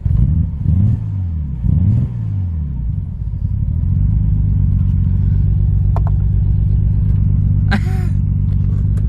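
Nissan Skyline R33 engine running just after being started, a loud, close, steady rumble that rises and dips in two early rev swells before settling into an even drone, with a few faint clicks and a short rattle near the end.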